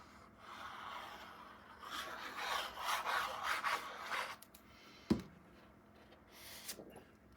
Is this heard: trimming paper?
yes